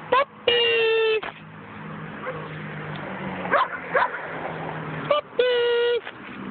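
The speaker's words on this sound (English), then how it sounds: "Puppies!" Puppies whimper and yip in short, high whining bursts, a few louder yelps standing out over a continuous rumbling background, with a person's voice calling out at times.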